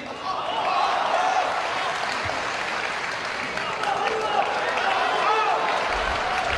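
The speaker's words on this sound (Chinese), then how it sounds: "您甭鼓掌" A theatre audience at a Chinese crosstalk comedy performance applauds in a steady, moderately loud wash of clapping that holds for several seconds, with voices mixed in.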